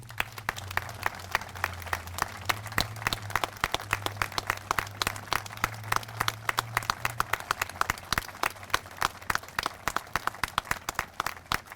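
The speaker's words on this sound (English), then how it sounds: "a round of applause" A Veterans Day ceremony audience in Southborough gives a round of applause: many hands clapping in a steady, moderately distant patter that lasts throughout, with a low hum beneath.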